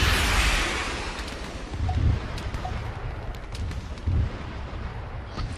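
Rocket launcher fire in the Arma 3 military game, aimed at an enemy helicopter, comes through as a loud opening blast that fades into a rumbling roar, with two further muffled booms, no talk.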